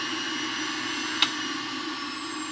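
Breville JE98XL Juice Fountain Plus juicer running on its low setting gives a steady, loud high-speed whirring motor hum with a broad hissing whine and one brief click midway.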